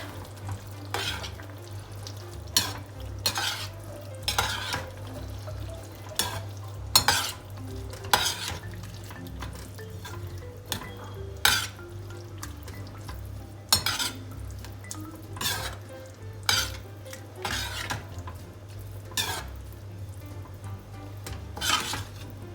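Dal stirred into a cooking pot of well-cooked masala for restaurant-style dal makhani, with a steady sizzle under repeated scraping and clinking strokes of a spoon against the pot, close and fairly loud throughout.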